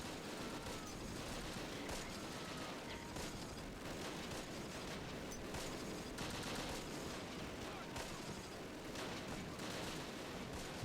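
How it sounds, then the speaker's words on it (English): Dense, continuous battlefield din from the WWII video game Close Combat: rattling machine gun bursts and heavy mortar impacts blend into a loud, unbroken fusillade, with no voices over it. "And the mortars are hitting pretty decently, I guess."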